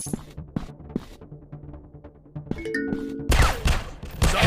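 Rapid bursts of gunfire from a first-person shooter game in the PUBG style, sharp repeated shots with ringing tones, growing into a dense loud volley at the end.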